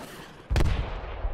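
A loud, close burst of gunfire in the military shooter Project Reality, set in Grozny city, booms out once with a heavy low rumble that trails off under steady background noise.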